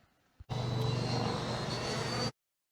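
Freewing MiG-29 Fulcrum RC model jet with a battery fault and uneven thrust, recovering from a spin with throttle reduced: a loud, steady ducted-fan roar with a thin high whine, lasting about two seconds before cutting off abruptly.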